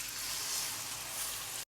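Goat liver and onions frying in a pan as a little water is added, giving a loud, steady, close hiss of sizzling that cuts off abruptly.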